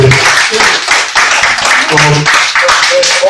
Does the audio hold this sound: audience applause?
yes